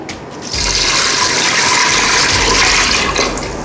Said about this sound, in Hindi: 1 लीटर पानी डालेंगे